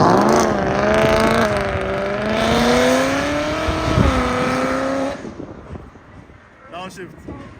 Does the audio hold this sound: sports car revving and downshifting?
yes